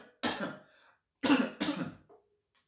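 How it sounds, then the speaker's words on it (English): A person coughs three times in quick succession, loud and close, with short pauses between the bursts. "I'm coughing."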